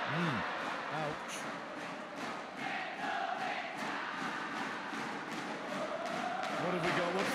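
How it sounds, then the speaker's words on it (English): Crowd chanting at an Axiata Cup badminton match, a steady roar of many voices in rhythmic surges filling the arena, with a commentator speaking over it and occasional shuttle thumps. "What's the chant in the crowd at the minute?"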